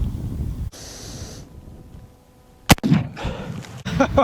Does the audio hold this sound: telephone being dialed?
no